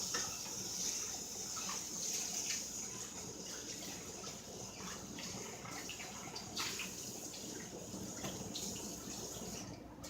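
A small bowl washed under a running kitchen tap, a steady faint splash and trickle of water lasting about ten seconds with light clinks and changes as the bowl is moved, and no talking.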